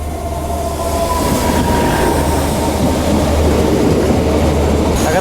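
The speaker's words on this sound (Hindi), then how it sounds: "इधर ट्रेन भी आ रही है," A train arrives at Panjgam railway station in foggy, snowy Kashmir, a steady, loud rumble of wheels and cars rolling close by with faint squeals, continuous throughout and with no talk.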